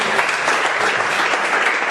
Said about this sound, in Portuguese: e que a igreja aplauda ao Senhor